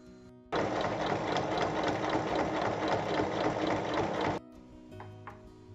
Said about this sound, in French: On fait une surpiqûre de chaque côté des coutures.